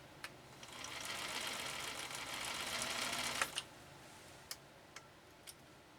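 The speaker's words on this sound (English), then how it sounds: "you never run a machine with the presser foot down like this against the feed dogs" A vintage Singer 222K sewing machine runs steadily with a soft, fast mechanical whir for a few seconds, then stops, leaving a few isolated light clicks in a quiet room.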